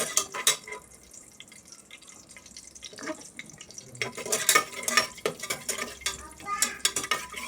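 Cashews frying in a pan until reddish while a spinach palak pulao is made: soft oily sizzle with scattered spoon stirs and clinks that grow busier and louder toward the end, close, with no talk.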